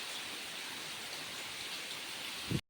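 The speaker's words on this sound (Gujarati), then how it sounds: "કેવો વરસે મસ્ત મજાનો જો આપણો વરસાદ" Steady rain pours down in a constant, even wash of noise, ending with a brief low thump before cutting off.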